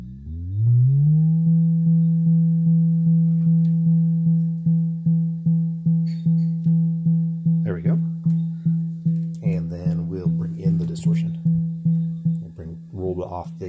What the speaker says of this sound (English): I'm going to increase the pitch of our VCO a little bit.